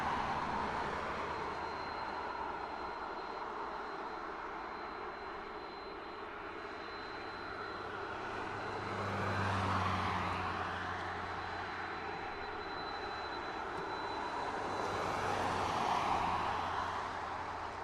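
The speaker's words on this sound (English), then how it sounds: "these great shots as the cargo planes come into land" Cargo planes come in to land at an airport, their engines a steady broad roar that swells as one passes nearer around the middle, then eases and builds again, with no talk.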